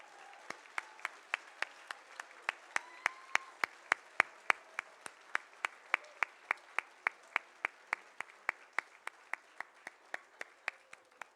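Applause at a 2023 Hall of Fame night for past inductees standing, though it sounds like a single pair of hands clapping in a steady, evenly spaced rhythm, sharp and close in a quiet room.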